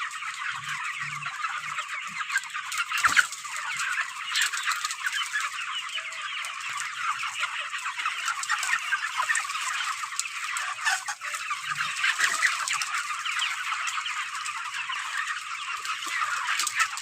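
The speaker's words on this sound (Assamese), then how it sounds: "একত্ৰিছ দিন বয়সৰ ব্ৰইলাৰ পোৱালি।" A flock of 32-day-old broiler chickens fills the space with dense, continuous clucking and chirping, loud and close, with a few sharp knocks.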